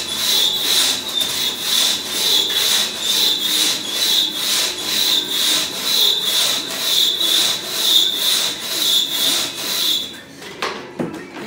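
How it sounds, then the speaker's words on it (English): Hardwood axe chopping a dry sycamore about a foot thick, with rapid, evenly spaced strikes repeating close and loud for about ten seconds before stopping, followed by a brief louder knock. "It's dry, using a hardwood axe."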